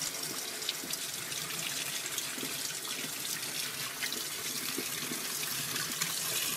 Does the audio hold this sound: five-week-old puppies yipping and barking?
no